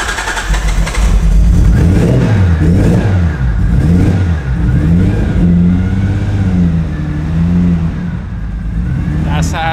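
A Toyota Chaser engine cranks and catches right away, then revs up and down repeatedly in loud, close bursts, with the revs dropping back to idle in between and speech faintly under it.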